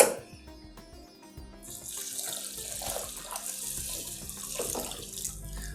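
Warm water is poured into a bowl to rinse flattened rice (poha) for upma, starting as a thin trickle and then becoming a steady, splashing flow close by, with no talking.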